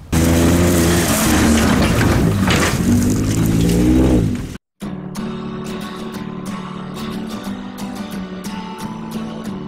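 2017 Dodge Durango Citadel SUV towing a trailer with two motorcycles in the Rockies, engine revving loudly with rising pitch, then after a short cut a steadier cruising drone with clicks and rattles.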